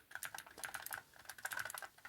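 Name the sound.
typing on a mechanical keyboard for the Amiga 1200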